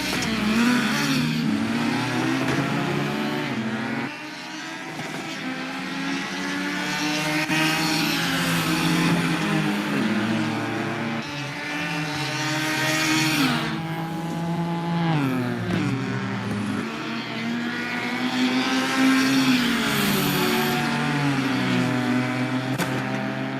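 Cubmans-class race cars, one a Mitsubishi, race at the SMSA final round. Engines rev and drone steadily throughout, their pitch rising and falling as the cars accelerate and shift, with no talking.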